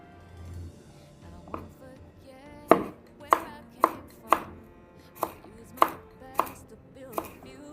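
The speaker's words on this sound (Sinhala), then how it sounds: "සුදු ලුණු පොඩියට කපා ගන්නවා." A knife chopping garlic and vegetables such as carrots, leeks and cabbage on a board at home, a run of about nine sharp, close knocks at an uneven, unhurried pace, preceded by faint lighter taps.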